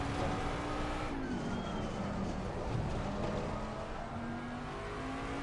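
A GT3 race car engine in a sim racing game holds a steady, droning whine with gear-shift pitch changes while accelerating, continuous and fairly quiet, with no talk over it.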